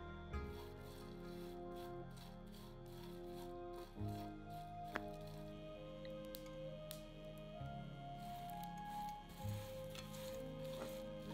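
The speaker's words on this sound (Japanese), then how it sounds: "小魚を空炒りします。" Small dried fish (gomame) dry-roasted in a frying pan over medium heat: quiet, steady scraping and rubbing of the fish being tossed, with occasional light knocks and a faint sizzle.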